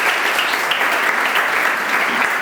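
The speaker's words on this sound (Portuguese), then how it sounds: "Le damos un aplauso al Señor." Church congregation applauding together during a bilingual Spanish-Portuguese service, a dense, steady wash of clapping that holds at full strength throughout with no pauses.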